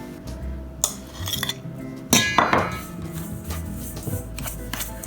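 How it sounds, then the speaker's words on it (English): A fork works butter into a sugar mixture in a bowl, giving scattered sharp metallic clinks and scraping taps against the bowl, close and without talk. "We're gonna cut this in here with our fork so it makes nice big clumps of yumminess."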